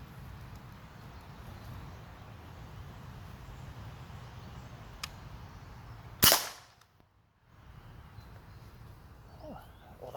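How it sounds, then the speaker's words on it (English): A single loud, sharp crack from a Benjamin Bulldog .357 big-bore airgun fired at a chicken thigh loaded with an explosive round, set against steady outdoor ambience with a brief faint click earlier. "I am shooting it out of a Benjamin Bulldog."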